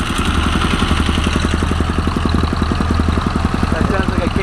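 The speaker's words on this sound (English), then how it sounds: "That sounds like a KTM." A despatch-style tracker motorcycle, thought to be a KTM, idles with a lively, steady rapid thumping beat, close and continuous, while people talk over it.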